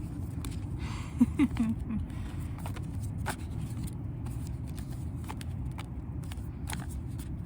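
Oracle cards, large and somewhat stiff, being shuffled by hand indoors, making soft irregular flicks and taps over a steady low room hum.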